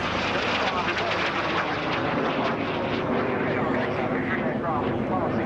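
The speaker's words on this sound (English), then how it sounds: "aircraft passing through" An aircraft passing through at an air show, a loud continuous engine roar and rushing wash that holds steady throughout, with a voice talking over it.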